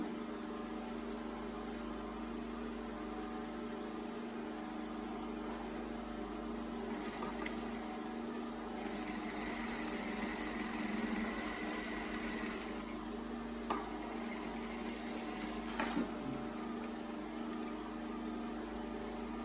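A sewing machine runs a stitch along the side pocket of a pair of joggers. Short, faint bursts of stitching rise over a quiet room hum.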